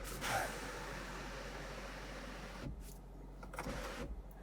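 The sunroof of a 2025 Kia Niro PHEV plug-in hybrid opens with a quiet electric motor whirring steadily for a few seconds inside the cabin, ending with a couple of soft clicks and thumps.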